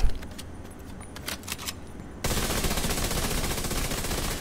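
Rapid gunfire bursts in The Division 2 shooter game, a sustained dense rattle of rounds that starts abruptly partway through and keeps going loud and steady, after a quieter stretch of a few faint sharp clicks.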